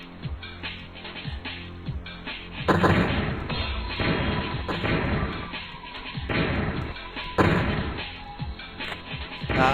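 Explosions and crashes in the video game IndestructoTank, several booming blasts and heavy thuds arriving in bursts, loud and close, with a dense crunching rumble in between.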